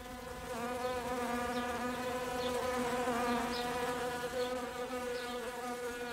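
A fly buzzes close by in a continuous, steady drone with slight wavering pitch, heard alone at low volume.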